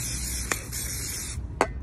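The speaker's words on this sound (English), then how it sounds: "And a bit of silicone spray" Two short bursts of silicone spray hiss, a second apart, over a steady background hum, applied to a boost hose on a BMW E90 335d.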